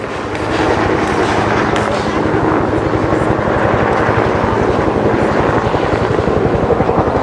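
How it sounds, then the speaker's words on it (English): A medevac helicopter comes in to land at a Vietnam War reenactment at a fort festival, its rotor thudding in a fast, steady beat up close and loud, with engine whine and rumble running continuously the whole time. "now they call in the medevac helicopter dust off to pick up"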